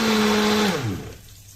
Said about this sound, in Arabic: احنا الخلاط تقريبا حصل فيه حاجه، انا هفضيه في خلاط تاني